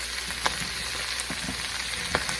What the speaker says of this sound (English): so you want to get your tofu cooked,